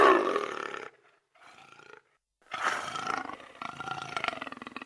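A panther roars in several deep, rough bursts, separated by short gaps. The sound is close and moderately loud, with no talking.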